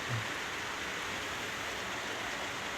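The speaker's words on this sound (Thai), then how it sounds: "ฝนตกฝนตก" Steady rain falls outdoors during garden work, a dense, even hiss that holds unbroken for a few seconds with no talk over it.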